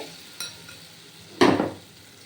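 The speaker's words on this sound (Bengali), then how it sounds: "দেখুন এই খুন্তি দিয়ে একটু কাই করে নেব" A spatula stirs bottle gourd kofta curry in a pan: a light scrape comes first, then a louder, longer scraping stroke that slowly fades. No one speaks.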